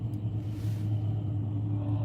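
A hooded Chevy truck rumbles past at a rod run in Pigeon Forge, Tennessee, its deep steady engine note loud and close throughout.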